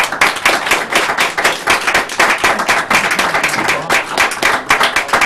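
Applause from a conference audience: dense, close clapping at a steady level for the whole stretch, with no voices over it.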